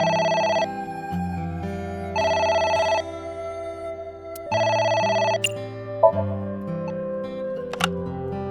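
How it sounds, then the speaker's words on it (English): A telephone rings in the video game AI: The Somnium Files, sounding as clear, repeated electronic ring bursts with short pauses between them, alone and at steady volume. "It's the phone."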